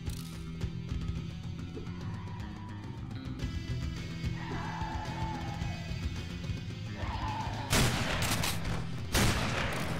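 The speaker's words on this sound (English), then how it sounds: "Dang, that shotgun packs a punch." A shotgun fires in the horror video game Underhell, two loud, close blasts landing near the end over a steady bed of droning game ambience and musical tones.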